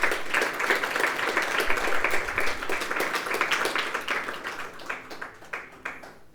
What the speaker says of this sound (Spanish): vamos a dar un aplauso a Dios por la vida de la madrina Alicia.